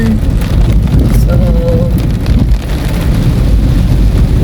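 Heavy rain pours steadily close by during a drive along a slippery road, a dense continuous wash with brief gusts, and no one speaks over it.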